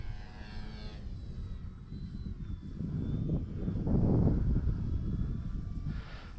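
E-flite Clipped Wing Cub RC model plane flying outdoors, its small electric propeller droning steadily with a broad rumble that swells in the middle as it passes, with wind noise over the microphone.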